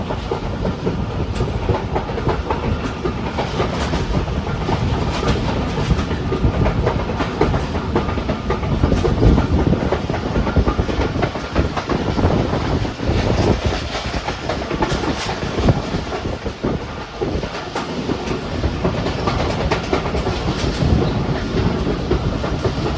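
The Pak Business Express passenger train from Karachi to Lahore runs on rails, giving a continuous loud clickety-clack and rolling rumble for the full duration, recorded from aboard with no talking.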